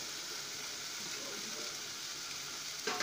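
Chili powder sizzles in hot oil with ghee and asafoetida while a soybean curry cooks, a soft, steady frying hiss throughout, with a faint clatter right at the end.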